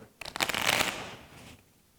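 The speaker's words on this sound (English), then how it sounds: "We're gonna shuffle the cards real quick." A deck of playing cards being shuffled up close, a quick burst of riffling flutter that swells and then fades out, with no talking over it.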